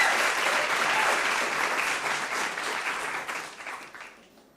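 Applause from an audience for school teams at a quiz competition, a steady wash of clapping that holds for a few seconds and then fades out quickly.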